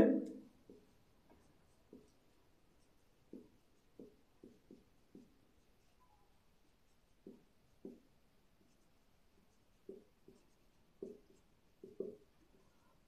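A pen or chalk writes out an abstract algebra proof about cyclic groups by hand, producing short, faint scratching strokes in irregular bursts over a quiet background.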